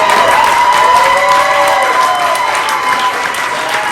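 A crowd applauds loudly and steadily at a Big Blue signing event for Julius Scearce, dense clapping filling the room with a few cheers and a voice mixed in.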